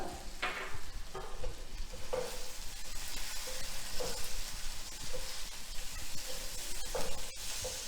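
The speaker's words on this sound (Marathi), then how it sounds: "सगळं एकसारखं छान परतून घ्यायचं आहे" Bombil fish masala with Malvani spice is sautéed on a low gas flame, sizzling steadily as a spoon scrapes and stirs the pan in repeated strokes, with no talking.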